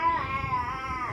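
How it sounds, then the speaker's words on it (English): A pet male cat meows indoors in one long, drawn-out wavering cry, close and steady, during house cleaning. "Alright, kitty break. Hi, kitty. He's a sweet boy."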